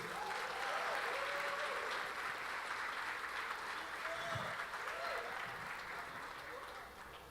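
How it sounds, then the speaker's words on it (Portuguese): Steady applause from a church congregation welcoming a pastor, sustained and fairly even for several seconds before starting to taper off at the end. "queria que você recebesse com a forte salva de palmas ao Senhor"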